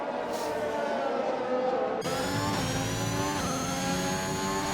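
A high-revving race car engine in a racing video game drones continuously, its pitch shifting as it accelerates and changes gear, steady and loud throughout.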